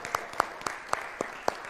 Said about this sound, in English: Let's have a round of applause for our third grade Bible recipients.